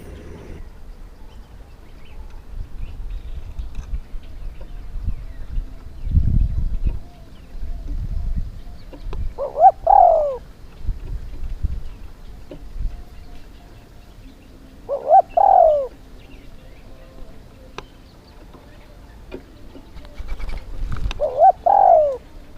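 A spotted dove coos during decoy bird hunting outdoors, three short separate calls spaced several seconds apart over a low rustling background with faint, distant noises between them.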